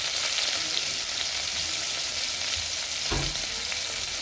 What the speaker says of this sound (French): on continue à faire frire bien les oignons